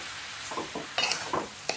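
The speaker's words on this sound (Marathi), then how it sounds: "छान असं मिक्स करून घेणार आहे आपण." Milk and cream are stirred into a thick cooking mixture in a pan, giving a few soft, wet scraping and sizzling strokes at a quiet level, alone without talk.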